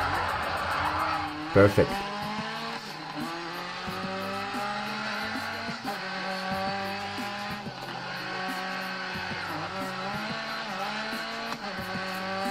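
Race cars in GRID Autosport, played on a phone, drone steadily with engine harmonics that rise and fall through shifts, a brief skid or tire squeal near the start, and a short spoken word over the racing.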